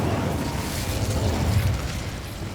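A fire spell cast in the video game Hogwarts Legacy gives a sustained, loud roaring whoosh with a deep rumbling body, steady throughout without pause.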